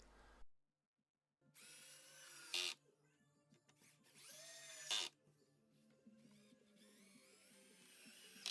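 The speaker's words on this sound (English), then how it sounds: "finally I'm screwing some rails to the front and the back" A power drill drives screws into the wooden rails of a Morris chair frame in a workshop, with several short bursts of high whirring separated by pauses and quieter handling noise.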